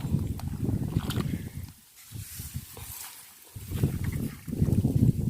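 Someone wading through shallow water while fishing, with repeated sloshing and splashing strides close by, a brief quieter pause in the middle.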